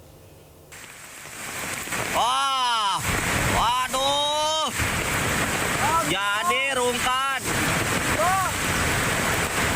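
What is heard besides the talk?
rushing flooded river current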